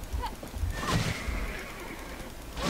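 A donkey mount brays and whinnies in the video game Black Desert, one loud call in the middle of the stretch with hoof clops and game ambience around it.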